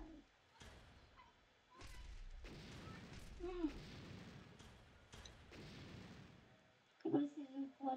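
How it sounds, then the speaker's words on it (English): Several loud, broad booming blasts from a Roblox natural disaster game burst out one after another, with a voice speaking over parts of the rumbling noise. "Big explosions. Watching explosions is fun."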